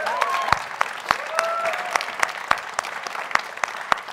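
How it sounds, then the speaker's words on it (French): A studio audience on a French-language talk show claps in a steady rhythmic beat, sharp regular claps under cheering voices and a brief sung or called-out line. "on peut applaudir"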